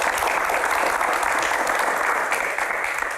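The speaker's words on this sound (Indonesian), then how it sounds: "Raja Konser, tepuk tangan." An audience applauds a concert promoter at a Q&A event, a dense, continuous wash of clapping from many hands that holds steady from start to finish.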